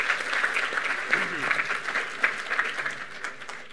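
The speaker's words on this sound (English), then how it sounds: "We can give him a round of applause." Scattered applause from a convention audience, moderate and uneven, with talking mixed in over the clapping.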